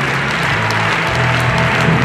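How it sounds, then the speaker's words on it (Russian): Loud, dense applause from a concert audience, a steady wash of many clapping hands filling the hall without pause, with a low hum underneath. "Громкие овации."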